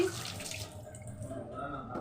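Water runs and splashes softly in a kitchen as polao rice is rinsed, a quiet continuous trickle with faint sloshing.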